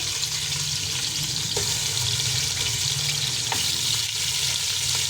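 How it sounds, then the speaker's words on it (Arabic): Beef searing in hot ghee in a pan gives a continuous dense sizzle and crackle, steady and close, with no talking. "هنسخن السمنة كده. هنزل كده باللحمة نديها تشويحة كده."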